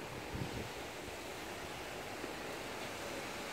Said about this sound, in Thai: เสียงลมพัด